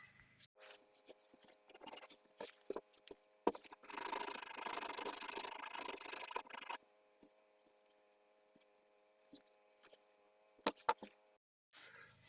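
Hand sanding wood with a homemade sanding stick: a steady rasping rub, loud and continuous for a few seconds mid-clip, with quieter scattered scrapes and knocks around it.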